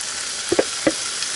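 Mushrooms tipped into a hot frying pan with shallot and garlic sizzle loudly in a van kitchen, a steady hiss with a few sharp bursts as pieces hit the oil.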